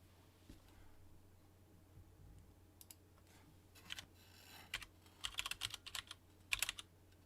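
Quiet typing on a computer keyboard fitted with Cherry MX Silent Black switches, faint at first and then a few sparse bursts of clicks against a low background hum.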